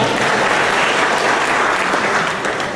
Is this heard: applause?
yes